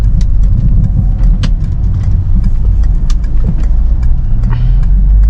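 A 2003 Peugeot 307 SW with an automatic gearbox and petrol engine, heard from inside while driving: a steady, loud engine drone and road rumble with small clicks and rattles, and no clear gear shift standing out.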